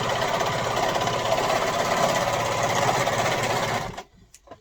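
A sewing machine stitches fabric for a Christmas baby romper with new thread, a fast, close, rhythmic chatter running continuously before stopping abruptly near the end.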